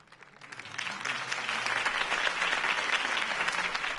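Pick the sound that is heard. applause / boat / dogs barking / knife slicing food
applause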